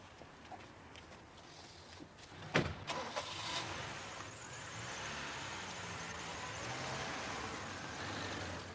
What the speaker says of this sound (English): And then Sandy drove the car, it would seem, back to his own flat in Willigarth Avenue.